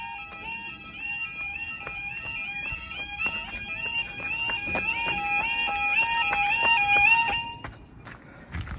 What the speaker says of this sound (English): We've got a new alarm tone.